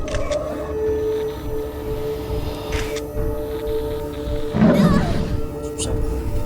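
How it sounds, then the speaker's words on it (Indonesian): A tiger in the horror game DreadOut 2 lets out a loud, rough roar over dense, noisy in-game ambience, peaking briefly then trailing off, with fainter growling bursts around it. "Harimau masih ada"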